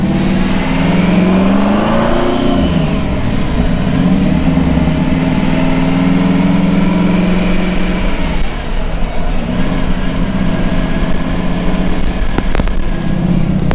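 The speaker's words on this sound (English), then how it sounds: "Can you hear that supercharger whine?" A loud supercharged hot rod engine revs and holds with a rising, high-pitched supercharger whine over a deep rumble, with a few sharp pops near the end.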